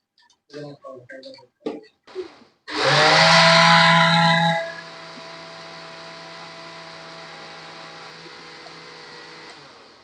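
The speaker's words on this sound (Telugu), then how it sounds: "వీళ్ళిద్దరూ మిక్సీ చేయడం" A few short knocks, then a kitchen mixer blending watermelon for juice whirs loudly for a couple of seconds and drops to a lower steady hum that continues to the end.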